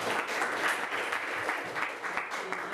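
Students in a history class clap together in a brief burst of close, lively applause with uneven rhythm, lasting under three seconds.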